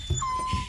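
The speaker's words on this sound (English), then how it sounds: "That's a dog." A dog gives a short whimpering whine with a couple of low yips, faint and close, over a quiet background.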